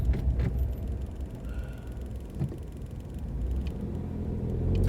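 A car drives along a seafront road toward the tower, with a low, steady engine rumble and road noise that swells slightly toward the end, no talking.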